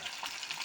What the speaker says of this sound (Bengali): সব মাছগুলো এইভাবে ভেজে তুলে নেব।